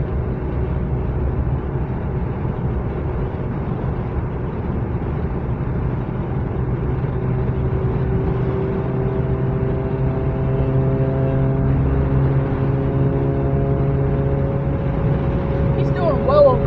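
A car with loud mufflers drives fast, producing a continuous deep engine drone with shifting tones that stays loud throughout, while voices are faintly present underneath.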